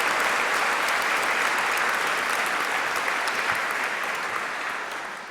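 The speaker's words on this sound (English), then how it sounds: "you'd like to show that by way of a round of applause for all your supporters today and for the staff" A large graduation ceremony audience at Edinburgh Napier University applauds supporters and staff, a loud, continuous wash of clapping that holds steady before tapering off slightly at the end.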